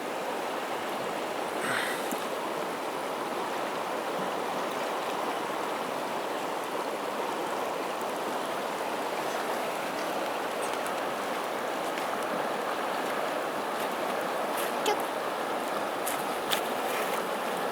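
The icy Soča river in Slovenia's Triglav National Park rushes in a steady, broadband roar, water flowing continuously and close, with no voices.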